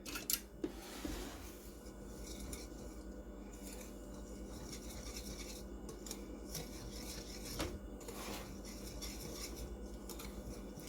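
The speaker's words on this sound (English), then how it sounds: "I'm going to take my flour, my sugar, and my salt and whisk those together" Flour, sugar and salt being whisked together in a bowl for Danish pinwheel dough: a faint, steady scratchy swishing of the whisk with occasional light clinks, close by and without talk.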